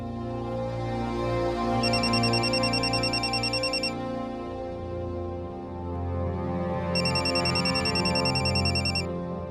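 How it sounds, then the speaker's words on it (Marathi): A mobile phone rings in a home, giving two bursts of a bright, repeating electronic ringtone separated by a pause, heard over a steady background music bed. "तुझा फोन वाजतोय."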